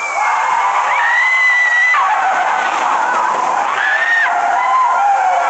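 The Space Mountain: Mission 2 ride vehicle launches at 14 metres per second, a loud continuous roaring rush with rising and falling screeching tones throughout.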